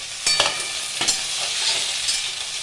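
Potatoes and drumsticks fry in a pan and get stirred, loud steady sizzling broken by a few sharp scraping clatters of the spoon, close up.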